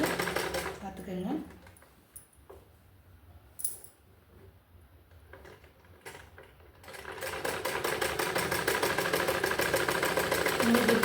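A sewing machine stitches the shoulder seam of a six-panel anarkali made from nighty material, starting after a few seconds of handling noise and then running as a fast, steady mechanical whir that stays close and loud.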